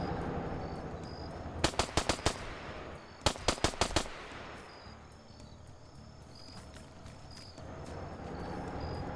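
Two short bursts of automatic machine gun fire ring out in a PvP video game match, each a rapid string of four or five loud cracks, separated by a pause, over a steady ambient hiss and faint distant background noise.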